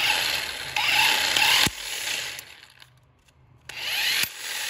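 A 12V car impact wrench powered from a car's cigarette-lighter socket whirs and rattles in loud, close bursts, cutting off abruptly, pausing briefly, then starting again.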